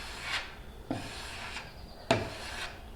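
A scraper pushes back and forth over hardening filler, making rough, raspy strokes with a few sharper clicks at each start. It is close and moderately quiet, with no talking.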